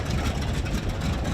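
Radial engine of a warbird aircraft, an FM-2 Wildcat or TBM-3E Avenger, during start-up: a loud, steady, rumbling roar that is close and continuous, with no talking.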